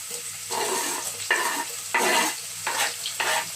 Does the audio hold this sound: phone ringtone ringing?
no